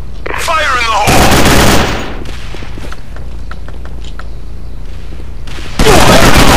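Loud bursts of gunfire and a booming blast ring out in the online shooter Sudden Attack. A voice calls out briefly at the start, then sporadic shots crackle before another heavy burst.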